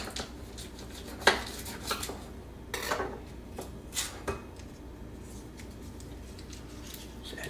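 A spoon stirs a stick of butter into milk in a pot, with soft scraping against the metal and a few sporadic clinks, fairly quiet and close.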